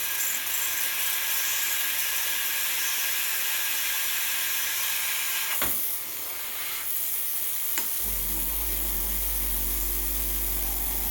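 A Breville Oracle BES980 dual boiler espresso machine's steam wand hisses steadily and loudly throughout, with a brief surge near the middle and a low rumbling tone joining in toward the end.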